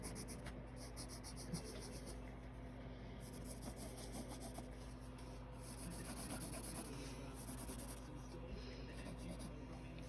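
Pencil sketching on paper, a continuous faint scratching and rubbing of graphite strokes over a steady background hum, with no talk.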